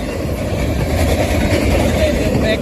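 A mile-long freight train of up to 100 cars with two pusher locomotives rolls past close by on an open railway out of Slab City, a steady loud low rumble and engine drone with no pauses.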